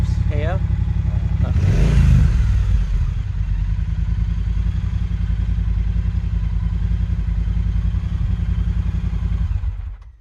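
A 2018 Triumph Bonneville Speedmaster motorcycle engine idles close by, then blips sharply in a quick rev near the start before settling back into a steady, throbbing idle that cuts off at the end, with people talking over it.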